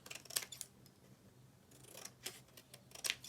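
Scissors snipping a paper triangle into strips, a few quiet, crisp cuts close by, spaced out with pauses in between.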